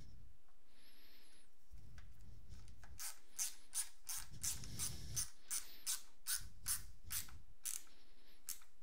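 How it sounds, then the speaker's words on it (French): Screwdriver clicking and ratcheting while parts of a Millennium Falcon model kit are assembled, a run of sharp repeated clicks in quick bursts after a quieter stretch of faint handling and rubbing, close and alone. "Alors j'espère que c'est pas trop bruyant le tournevis à la vidéo"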